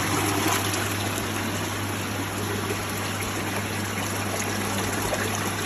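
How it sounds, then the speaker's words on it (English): Water rushes steadily back into a koi pond filter packed with K1 media, a constant hissing, trickling flow with a low hum underneath, close and unbroken throughout. "I'll let the water back in."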